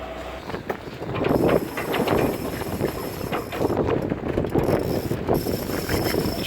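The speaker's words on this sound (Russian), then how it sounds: "Паруса свернуты, мотор тарахтит, никакого сейлинга, честное слово." A yacht's engine rattles steadily while motoring across a calm Mediterranean with sails furled, a loud continuous mechanical clatter mixed with wind buffeting the microphone and no voices.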